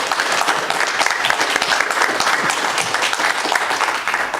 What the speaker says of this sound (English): I offer a round of applause to all four of our participants tonight.